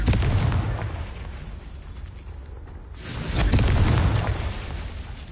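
A loud, roaring magical fire explosion from the Confringo spell in the video game Hogwarts Legacy, a dense blast that dips briefly and then swells again, with no voices.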